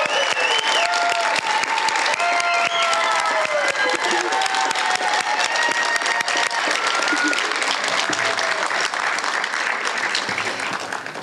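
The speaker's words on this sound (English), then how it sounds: "let's give one nice round of applause to all of our class of 2027." Sustained audience applause at a Doctor of Audiology white coat ceremony for the graduating class of 2027, dense steady clapping throughout with faint crowd noise and some voices, tapering slightly at the end.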